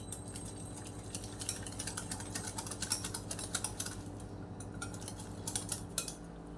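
A spoon stirs semolina handvo batter in a bowl, giving a steady run of quick clicking and scraping taps against the bowl over a low background hum, with no talking.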